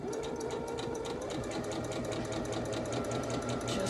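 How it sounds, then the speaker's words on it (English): A sewing machine stitches pieced quilt fabric with a quarter-inch seam, a quiet steady whirring hum with a fast, even mechanical ticking throughout. "just fit them together like so, and then sew 1/4 of an inch"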